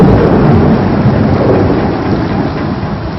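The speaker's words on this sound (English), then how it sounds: "It was raining heavily," Loud, continuous heavy rain pours with a deep rolling thunder rumble underneath, dense and close throughout with no voices.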